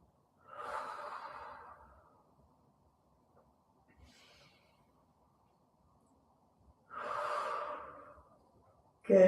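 Two long, deep exhalations during a guided full-body morning stretching session, each a broad breathy rush lasting a couple of seconds, separated by quiet, with a faint shorter breath between them and an abrupt louder sound at the very end.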